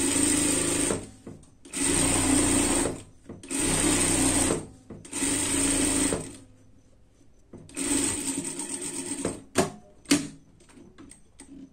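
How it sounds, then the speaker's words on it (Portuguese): A sewing machine runs a gathering seam on a dress in four steady bursts of close, even stitching separated by short pauses, then a longer uneven run ending in a few clicks and knocks. "vamos passar uma costura aqui pra gente franzir também"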